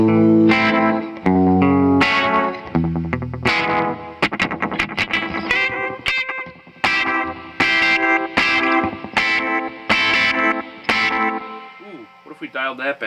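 An electric guitar runs through a VFE Mobius Strip DIY effects pedal in Mobius mode, giving sustained, swirling, modulated chords and notes with a flanger-like sweep and a steady strummed rhythm, with no talking.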